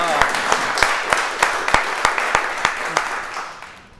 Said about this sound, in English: give a cheer, that's right